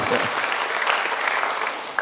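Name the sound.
applause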